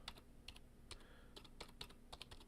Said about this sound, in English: Just as I finish typing.